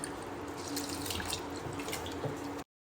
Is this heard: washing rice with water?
yes